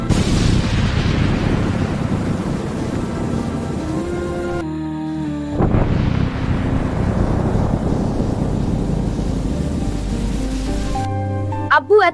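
Thunder during a heavy rainstorm: steady loud rain hiss with deep rumbling cracks rolling through it, one sharp burst near the middle and another at the end, close and powerful.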